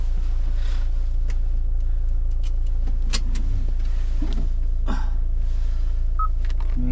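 A Kia Carnival minivan on a short test drive, with a steady loud cabin drone throughout and occasional faint clicks and interior rattles.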